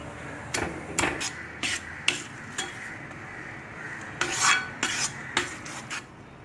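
Rice flour dough for savoury kozhukattai is stirred in a pan with a little oil, giving repeated soft scraping, rasping strokes in an irregular rhythm, close and fairly quiet, with no talking.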